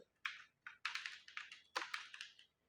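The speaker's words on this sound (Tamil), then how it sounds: "நம்ம சிம்பிளாக அவங்களுக்கு தேவைப்படுற டைட்டில் இல்லை லோகோ நேமை இங்கே டைப் பண்ணலாம்" Short bursts of quick keystrokes on a computer keyboard, entering a title or logo name, faint and close with brief pauses between runs.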